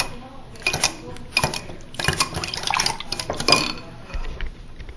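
Funnel cake batter being mixed in a bowl by hand, with close, uneven clinks and scrapes of a utensil against the bowl in short bursts.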